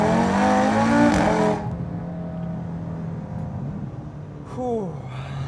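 A built 2018 Audi RS3 with heavy torque accelerates hard. Its engine roars loud and close for the first second and a half with a climbing tone, then drops to a lower, steadier drone, and a short second surge follows near the end.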